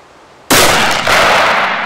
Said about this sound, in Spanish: Para empezar, disparamos a un blanco a 200 metros.